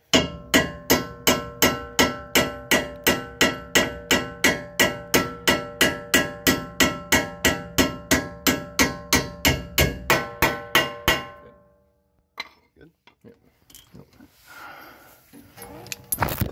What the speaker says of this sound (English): we just tapped on this inner ring right here at the hammer to get it seated back on